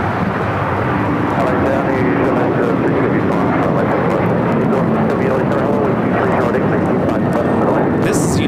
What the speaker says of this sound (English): 1216 taking off to Houston Intercontinental on the 737-900ER